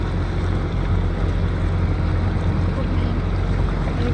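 A boat or jet ski running on open water in summer sends up a constant loud rumble mixed with wind buffeting the microphone, close and unbroken throughout.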